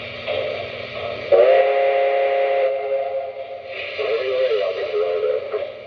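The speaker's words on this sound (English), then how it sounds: "I'm just going to blow the whistle for you." A steam whistle blows from a Lionel Hudson model locomotive, a sustained tonal hoot over a steady background hum, with faint talk-like crew radio chatter mixed in.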